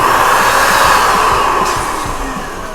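Steady, loud whooshing of an electric pump blowing up latex balloons for a balloon centerpiece, kept smaller than 12 inches, running continuously close by and easing slightly toward the end.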